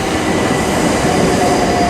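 GB Railfreight Class 66 locomotive 66739 "Bluebell Railway" passing through Clapham Junction station, a loud steady rumble of wheels and engine filling the whole stretch with no breaks.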